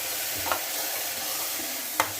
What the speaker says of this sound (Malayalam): തിളച്ച വെള്ളം ഞാൻ ഒഴിച്ചു കൊടുക്കുകയാണേ